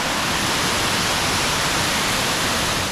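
Sullivan Falls, a backwoods Pennsylvania waterfall pouring into a deep pool, makes a steady, loud, close-up roar of rushing water that holds without a break and has no voices over it.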